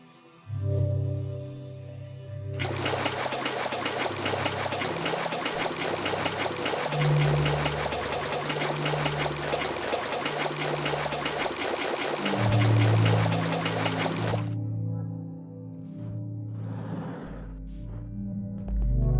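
Water pouring in a modded Minecraft game, a continuous splashing stream that runs steadily for about twelve seconds and then stops abruptly, with faint background music.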